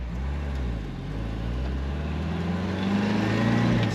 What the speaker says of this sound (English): Even during acceleration here, it's what you might think is a stock sounding exhaust.